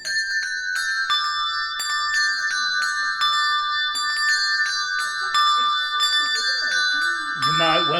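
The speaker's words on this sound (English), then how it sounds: "bells do ring out a great deal for celebration" Church bells rung for the King's coronation, a continuous bright peal of many overlapping clangs in steady rhythm, loud and close, with faint voices underneath near the end.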